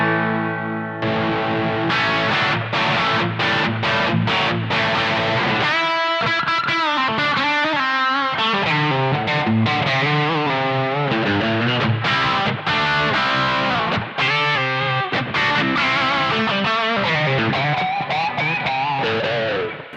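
A Fender valve guitar amplifier played through a Smallbox pedal into a Torpedo Captor load box gives loud, continuous distorted electric guitar with effects, riffs and sustained chords running throughout without pause.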